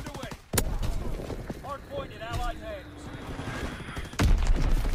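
A glide bomb explodes in a first-person shooter, with two heavy booming blasts among scattered game effects and shots, while a player talks over it.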